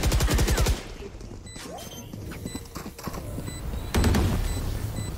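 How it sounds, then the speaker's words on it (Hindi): Rapid automatic gunfire in the tactical shooter VALORANT, loud close bursts at the start and again near the end with quieter scattered shots in between. "कुछ भी गोलियां चल रही हैं भाई."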